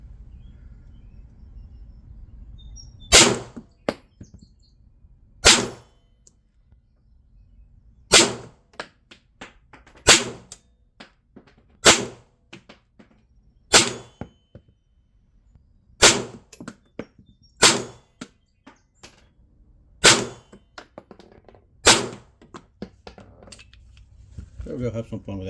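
CZ P10C pistol shots ring out as about a dozen sharp, loud cracks at irregular intervals of roughly one to three seconds, each hitting a steel gong target at an outdoor range, with low background rumble between them.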